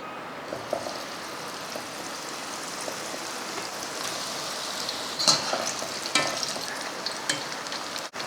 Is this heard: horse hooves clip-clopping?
no